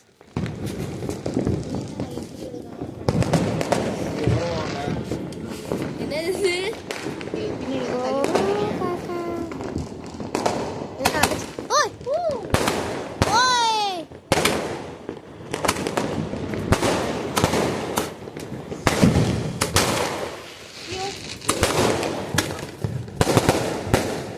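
Diwali firecrackers set off outdoors, a multi-shot cake firing a long series of sharp bursts and crackles in quick, uneven succession, with whistling shots mixed in and people talking in the background.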